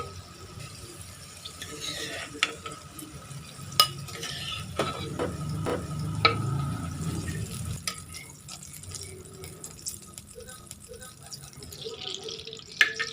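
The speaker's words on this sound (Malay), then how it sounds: "Dalam kuali yang sama, kita tumis bahan kisar tadi sampai naik bau wangi dan pecah minyak." Soft sizzling as a ground spice paste is sautéed in a wok for mee goreng basah, punctuated by sharp metallic clinks and scrapes of a spatula, fairly close.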